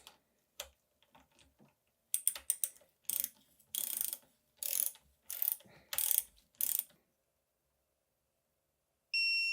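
Ratchet wrench driving fine-thread bolts down on a Fox Float X2 rear shock during a full service, heard as several crisp, rapid bursts of clicking with short pauses between strokes, close and clear with no talking.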